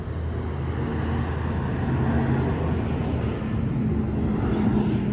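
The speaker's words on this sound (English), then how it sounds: "Here comes a truck again, every time I film a video" A truck passes nearby on a road beside a lot, a steady broadband rumble that swells slightly and holds throughout, with no voices over it.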